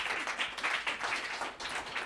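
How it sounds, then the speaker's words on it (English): An audience claps after a speaker is introduced at an Ignite talks event at unDavos 2026, a short burst of moderately loud, uneven applause from a smallish crowd. "Please give Dr. King a huge round of applause."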